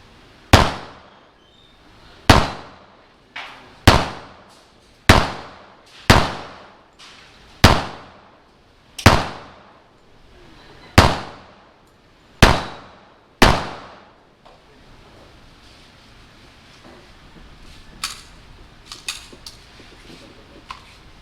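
A Taurus TS9 pistol fires about ten sharp, loud shots at a steady pace, each with a short echoing decay, followed by quieter handling noise.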